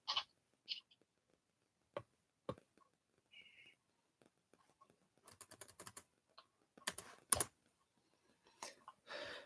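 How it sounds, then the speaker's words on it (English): Typing on a computer keyboard in quick clustered bursts of close clicks and taps, separated by pauses, with soft whispered talk between them. "I'm typing something."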